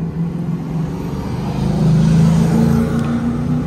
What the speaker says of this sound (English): sorry for the loud car that's coming up behind me